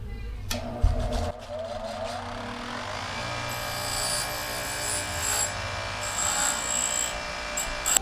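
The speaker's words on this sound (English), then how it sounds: "let's go ahead and get these parts cleaned up" A grinding wheel works on metal parts for a pop-up camper, a steady abrasive whir and scraping with a rising tonal whine and brief knocks near the start, close-up and continuous without talk.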